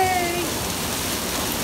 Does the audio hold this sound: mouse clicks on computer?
no